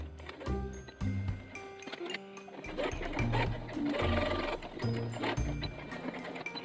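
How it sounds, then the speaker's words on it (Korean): A domestic sewing machine stitching fabric hair scrunchies, running in steady rhythmic bursts of mechanical whirring and clatter that start and stop several times, close and clear with no talking. "엄마 아빠 재봉틀 사주셔서 정말 감사합니다"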